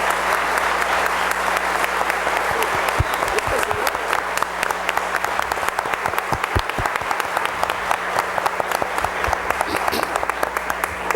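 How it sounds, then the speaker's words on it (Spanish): Audience applauding debate candidates, a sustained dense clapping from a crowd, even and loud across the whole stretch. "Yo creo que eso merece un aplauso"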